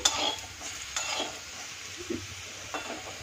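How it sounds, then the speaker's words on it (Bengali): Potatoes fry in hot oil in a pan, with a steady soft sizzle and several brief scraping stirs of a utensil. No one speaks. "আমার আলুগুলো ভাজা হয়ে গেছে, একটু হালকা ব্রাউন করেই ভাজবো।"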